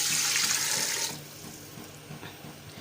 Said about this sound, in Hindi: अब हम इसमें ऐड करेंगे पानी। पानी हम ऐड करेंगे इसमें 2 गिलास।